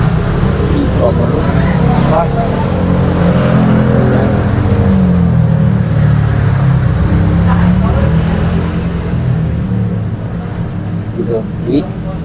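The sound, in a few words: motorbikes passing by a roadside shop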